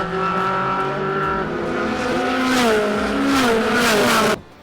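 A race car engine with a sequential shifter revs hard and steady, its pitch climbing and dropping with quick gear changes before cutting off abruptly at the end.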